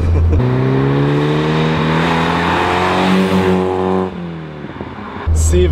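Peugeot 205 GTI or Golf 1 GTI accelerating hard, a loud close engine climbing steadily in pitch for about four seconds, easing off, then surging again at the end.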